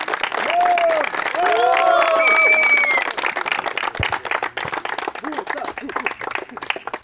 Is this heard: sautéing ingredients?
no